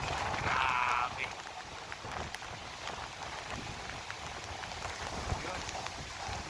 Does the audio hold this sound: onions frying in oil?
no